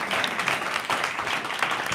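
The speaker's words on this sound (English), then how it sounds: "give another round of applause" Audience applause at a live animal advocacy forum, a steady wash of many hands clapping for a speaker, filling the short stretch at even moderate loudness.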